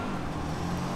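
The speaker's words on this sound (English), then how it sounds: "I'm really sorry for the noise. People be cutting their lawns." Lawn mowers run somewhere nearby as a steady, unbroken engine drone with a low hum throughout a brief moment, with no talking.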